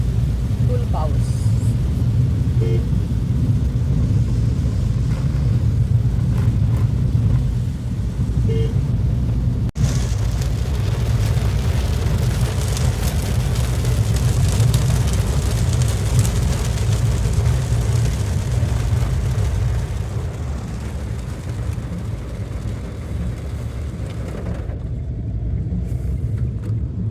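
Torrential monsoon rain drums steadily on a moving car, heard from inside over a deep road and engine rumble; the roar stays dense and loud for most of the ride, easing slightly near the end.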